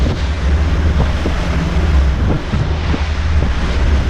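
Big waves roll and crash on Lake Michigan near St. Joseph as a 20-foot fishing boat sits in the swell, with constant heavy wind buffeting the microphone and a steady low rumble throughout.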